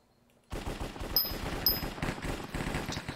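Uzi gunfire in a Minecraft mini game starts abruptly after a half-second of quiet, then rattles as a rapid, continuous stream of close, loud shots with two sharp metallic pings.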